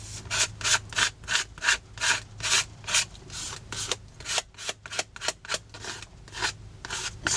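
A card scraping textured sandstone paste across a canvas gives repeated rhythmic rasping strokes, close and fairly loud, roughly two per second with short pauses between them and no voices.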